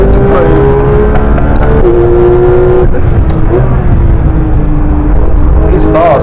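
Porsche GT3 RS in a racing video game, a loud, close flat-six engine note holding high revs with several brief dips at gear shifts and steady rumble throughout.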